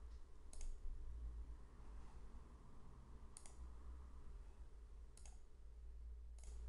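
Sharp mouse clicks, four spaced at irregular intervals, over a low steady hum in a quiet room while a user works through a software form.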